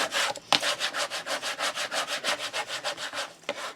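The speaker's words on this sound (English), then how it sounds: "give it a good old burnish" A tool is rubbed back and forth over paper on a scalloped square memory book, making about twenty quick, even scraping strokes, close and fairly loud.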